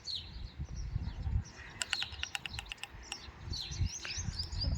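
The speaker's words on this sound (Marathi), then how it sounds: "टोच्याच मारत बसली आहे चिमणाताई" A quick run of light, sharp taps of a sparrow pecking at a mirror, mixed with faint bird chirps and low background rumble.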